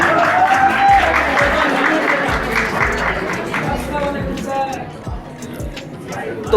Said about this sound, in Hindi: तालियों के साथ इस्तकबाल करें